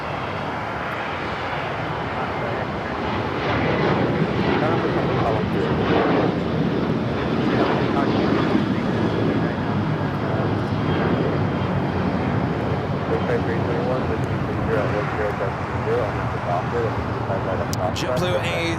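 A JetBlue Airbus A220-300 airliner at LAX, arriving from Buffalo, New York, gives a steady broadband engine roar that swells slightly after a few seconds and holds throughout, with a voice talking over it.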